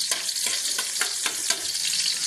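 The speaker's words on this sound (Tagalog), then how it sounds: "magsangkutsa po tayo ng sibuyas at saka bawang" Onion and garlic sizzle in hot oil in a frying pan on a stove, a steady broadband crackle with small stirring scrapes, close and alone without talk.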